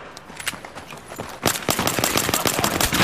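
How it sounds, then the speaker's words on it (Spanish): Gunfire in the video game Battlefield 3 starts as scattered shots, then becomes a loud, dense burst of rapid automatic fire halfway through, close and continuous. "Disparo a la cabeza."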